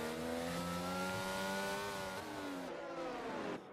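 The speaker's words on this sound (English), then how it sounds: "As the McLaren driver chases down the Alfa Romeo through the final couple of corners" A McLaren Formula 1 car in the F1 2022 racing game at the Spanish Grand Prix, with a high, harmonic engine whine revving up and dipping through gear changes, heard alone and steady.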